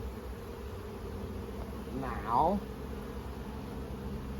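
Honey bees hum around an opened hive during a hive split, a steady low drone in the background, with someone speaking briefly partway through.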